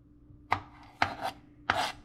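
Three sharp knife chops strike a cutting board at uneven intervals while vegetables are finely diced for shepherd's pie stuffed potatoes, close and crisp against a quiet kitchen.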